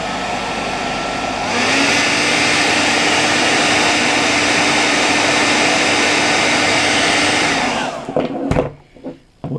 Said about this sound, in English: That's why you need the hairdryer.